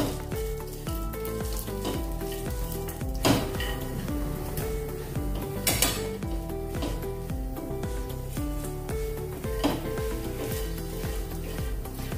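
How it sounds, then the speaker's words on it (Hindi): Raisins, almonds and melon seeds roast in a pan for suji rava laddu, giving a loud continuous sizzle with stirring scrapes and occasional clinks of the spoon against metal, no voices. "साथ में किशमिश डाल देंगे और साथ में डालेंगे मगज के बीज। इसको भुनेंगे।"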